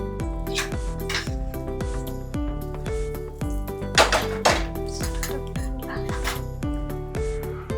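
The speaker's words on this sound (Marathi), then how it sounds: "आपण तूप घालून त्याला असं परतवून घेणार" A spatula scrapes and clatters against a metal pan while puran poli filling is sautéed in ghee, giving repeated sharp metallic knocks and rattles in an irregular rhythm, close and fairly loud.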